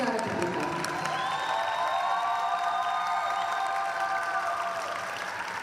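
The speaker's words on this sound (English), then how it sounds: "And a great cheer for the Czech team competing." A figure skating arena crowd at a Junior Grand Prix event in Ostrava cheers and applauds a Czech pairs team, with steady sustained clapping, whistles and whoops heard from across a large hall.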